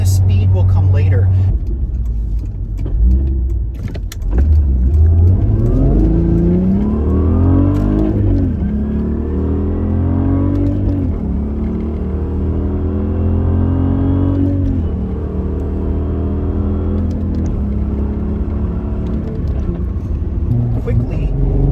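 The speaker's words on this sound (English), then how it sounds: "Quickly drop through the gears and have a completely smooth ride for your passengers along the way" A car engine drops down through the gears, its revs rising and falling in a series of smooth sweeps, loud and close, with a voice talking over it.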